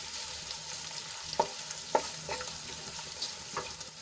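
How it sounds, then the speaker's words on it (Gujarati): Crushed peanuts sizzle in a hot pan with a steady crackle, broken by a few sharp scraping stirs of a spoon against the metal. "1 મોટી ચમચી જેટલા સિંગદાણા લીધા છે ક્રશ કરેલા એ એડ કરી દઈશું અને થોડાક સાંતળી લઈશું"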